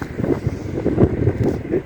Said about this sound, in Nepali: हावा चलेको हेर्न सक्नुहुन्छ